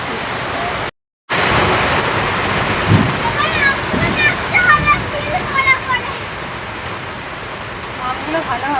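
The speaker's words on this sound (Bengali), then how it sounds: "তো বন্ধুরা দেখো ফাইনালি আমাদের এখানেও বৃষ্টি চলে এসছে।" Heavy rain pours steadily in a village, a dense continuous hiss close by with a brief dropout, while birds chirp faintly and people talk over it.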